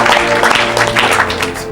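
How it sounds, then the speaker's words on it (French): A church congregation applauds, a loud, dense patter of many hands clapping continuously and nearby, with a voice heard faintly underneath. "Put your hands together for the Lord."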